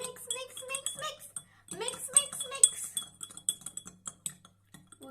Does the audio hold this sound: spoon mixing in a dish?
yes